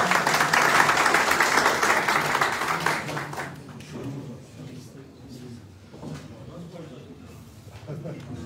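An audience at a traditional breakfast meeting applauds a former association president called to the microphone; dense clapping fills the first three seconds, then fades into scattered claps, shuffling and murmured voices.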